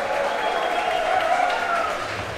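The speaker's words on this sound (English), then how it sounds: "Let's give a round of applause for the Gumball" Crowd applause at a Gumball 3000 announcement at an Exotics & Espresso car gathering, a steady dense wash of clapping from a nearby audience throughout.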